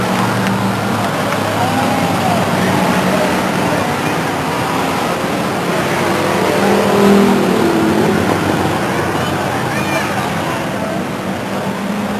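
Race cars circle Stockton 99 Speedway in 1999, engines droning steadily and fairly loud in a broad, continuous roar. The pitch rises and falls a little as the cars pass, and a voice can be heard faintly under the noise.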